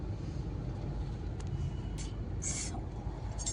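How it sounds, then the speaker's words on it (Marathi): Heavy road traffic heard from inside a vehicle: a steady low rumble of cars and engines with a few faint high beeps or horn-like tones. "ट्रॅफिक भरपूर लागलेली एक पाहू शकता तुम्ही"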